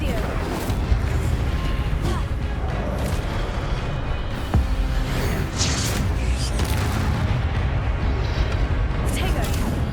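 Fiery Incendio spell blasts and combat impacts from the video game Hogwarts Legacy, a dense continuous roar of booms and bursts with a voice speaking over the fighting.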